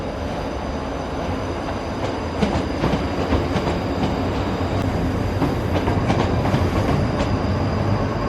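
A passenger train to Edinburgh rumbles steadily, wheels clicking over rail joints as it pulls away from Helensburgh station, with a continuous low roar and no voices.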